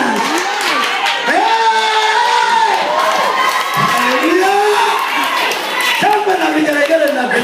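A church congregation erupts in ululation and shouting, high trilling wavering cries overlapping with cheers and scattered clapping, loud and close, with voices mixed in throughout.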